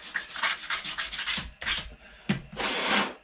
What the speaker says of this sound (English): I'm scratching this surface up with some 60 grit